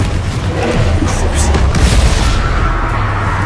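Confringo fire spell explosions in the video game Hogwarts Legacy, a loud, dense, continuous rumble of blasts and crackling impacts that fills the whole stretch.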